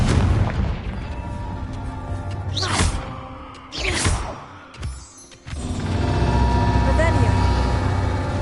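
A Confringo fire spell bursts in Hogwarts Legacy, a loud booming explosion with whooshing blasts layered over a steady rumbling game backdrop, several surges rising and falling across the scene.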